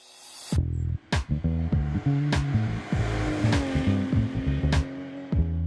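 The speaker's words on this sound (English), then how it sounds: "This is a 1969 240Z. It's set up as pretty much a full race car." A 1969 Datsun 240Z set up as a full modified-class race car at a motorsport festival, its loud engine revving hard and shifting through gears up close, with sharp blips between throttle bursts.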